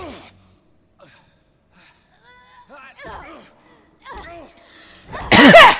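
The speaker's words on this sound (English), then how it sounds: "sorry, I had to cough there." A single loud, sharp cough bursts out near the end, following a stretch of gasps, sighs and breathy vocal sounds from one person at close range.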